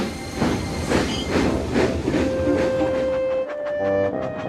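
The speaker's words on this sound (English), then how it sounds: "Thomas puffed fearfully towards the cliffs." A steam locomotive puffing along the track in fog near cliffs, rhythmic chuffs fairly loud and close, ending with a sustained whistle-like tone.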